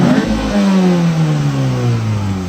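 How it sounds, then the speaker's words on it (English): Time attack MINI Cooper engine revving hard with loud intake roar drowning out the exhaust, a close rising-then-falling rev sweep. "Yeah, honestly, you can't even hear the exhaust over the intake."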